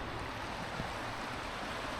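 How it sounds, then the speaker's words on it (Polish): The Soła river rushes in a steady, broad hiss of flowing water, continuous and moderately loud with no other sounds standing out. "Zobaczcie jak to szumi sobie ta woda"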